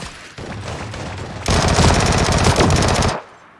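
Gunfire in the Sausage Man battle-royale video game: a loud, sustained burst of rapid automatic shots that grows denser and louder midway, then cuts off abruptly, with no talking.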